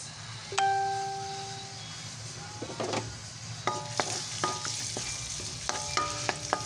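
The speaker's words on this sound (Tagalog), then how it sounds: "mainit na po ang ating kawali. Lagay na po natin yung bawang." Garlic sautés in a hot pan for igado, sizzling steadily up close while utensils clink and scrape against the pan in scattered taps, no talking.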